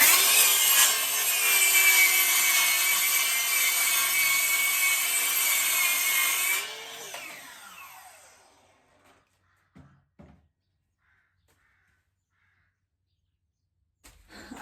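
Loud, steady power-saw cutting through wooden boards for several seconds, then the blade winds down, followed by near silence and a couple of soft knocks.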